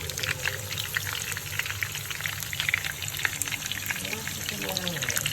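Lentil fritters (dahi bora) fry in hot oil with a steady, crackling, rain-like bubbling that stays fairly soft and continuous throughout.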